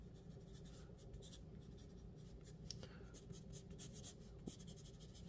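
A soft Blackwing Pearl pencil is drawn across HP Premium 32lb copy paper, making close, steady scratchy graphite strokes that run continuously with no talking.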